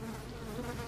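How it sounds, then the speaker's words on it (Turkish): Flies buzz in a toilet, a close, steady droning hum that holds without a break through the whole brief moment. "Sinekler uçuyor abi tuvalette."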